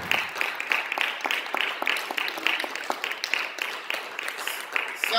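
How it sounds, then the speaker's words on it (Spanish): Worshippers in a church clapping in praise, a lively, rhythmic clapping that stays steady and fairly even throughout, with faint voices mixed in. "Dele un aplauso a Cristo."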